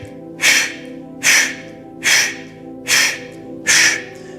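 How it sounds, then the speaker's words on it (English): Five sharp, forceful Kapalabhati diaphragmatic breathing exhales, evenly spaced about once every 0.8 seconds, close and breathy, with a faint steady hum in the background. "The next style of breath is called Kapalabhati."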